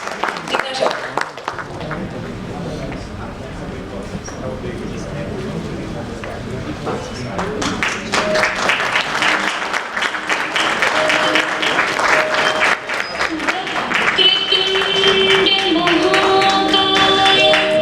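Audience applause for the chairman at an Ozone Day event in India, a broad clapping crowd building in the middle, with a voice speaking over it and music entering near the end.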